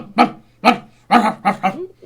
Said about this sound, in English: somebody's dogs going. barking.